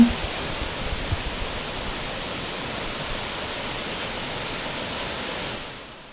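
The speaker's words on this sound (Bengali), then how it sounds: "উপরে পাথর থেকে জল বয়ে আসছে গত রাতে বৃষ্টিপাতের পর। তার স্রোত হয়তো আজকে কিছুটা বেশি।" Water pours steadily over rocks at the Kaliamba waterfall in Odisha, swollen after a night of rain: a continuous dense hiss and rush, near and even, fading slightly at the end.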